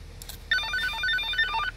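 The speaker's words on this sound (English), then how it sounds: "You can change the ringtones." A toy walkie-talkie plays an electronic ringtone, a quick, bright melody of beeping tones lasting just over a second, close up and clear over quiet room noise.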